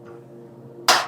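A single sharp, loud strike of a rubber mallet on a part of a Kubota tractor, landing after a stretch of low steady background hum.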